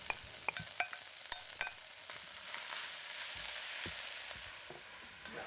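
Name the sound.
onion and turkey meat frying in cast iron pot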